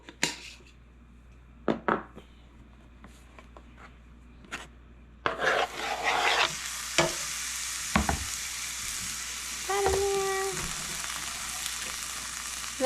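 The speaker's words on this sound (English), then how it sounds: "so I'm going to put some of that garlic oil down." Garlic-infused oil in a pan, a few scattered knocks and clatters, then a sudden sustained sizzle with occasional utensil clanks.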